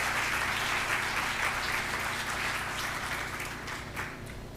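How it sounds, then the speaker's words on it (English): A sustained round of audience applause at a ceremony celebrating excellence, dense and even at first and then slowly thinning and fading toward the end. "So let's give ourselves a round of applause"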